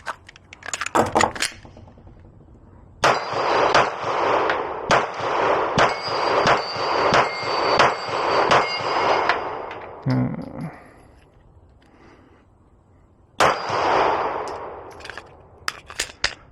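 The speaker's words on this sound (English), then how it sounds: "let's shoot some steel plates" Glock pistol shots ringing off steel plates outdoors, a loud rapid string of about a dozen evenly spaced bangs with metallic clangs, a pause, then another burst of shots.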